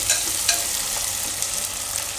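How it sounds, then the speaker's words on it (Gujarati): Onion frying in oil in a pan for rice with green chickpeas and potatoes, an even close sizzle with a couple of quick stirring scrapes, no voices. "તો ડુંગળીને આપણે થોડીક વાર આ રીતે તેલમાં ફેરવી લેવાની."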